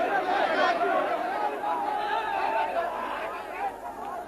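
A crowd at the disputed Babri Masjid site in India turns tense and unruly, a dense murmur of many overlapping voices with shouting, moderately loud and sustained throughout, slowly easing toward the end.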